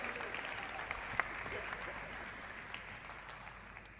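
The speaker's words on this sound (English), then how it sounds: "A round of applause for him, please, ladies and gentlemen." An energy conference audience gives brief, moderate applause in a large hall, a soft wash of clapping under faint room noise.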